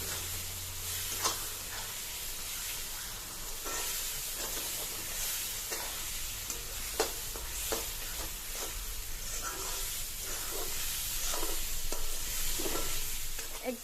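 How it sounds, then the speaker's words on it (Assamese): A homemade pickle being stirred in a pan after vinegar is added, with a continuous faint sizzle and repeated scraping, clinking strokes of a spoon at an uneven rhythm, close by and with no talking. "মই দি দিম অকনমান ভিনেগাৰ পুনৰ ভালদৰে লৰাই দিম"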